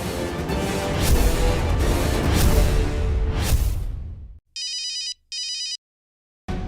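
After a burst of rushing noise, a telephone rings twice in short electronic trills separated by silence.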